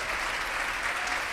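An audience at a junior high band concert applauds a band teacher, a dense, steady burst of clapping filling the room throughout.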